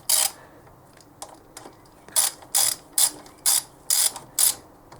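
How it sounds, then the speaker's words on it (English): A ratchet clicks in short bursts while tightening the cylinder head nuts on a pit bike during a piston change. Several quick, close, crisp runs of clicks follow in a steady rhythm, separated by brief pauses. "So now it's time to tighten our head nuts."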